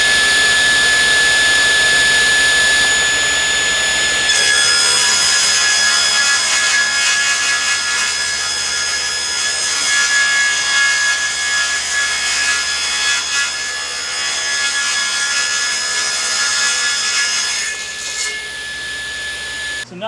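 A saw cuts through a plywood sheet in a woodshop, taking an eighth-inch overcut. A loud steady whine runs from about four seconds to about eighteen, then winds down. No talking.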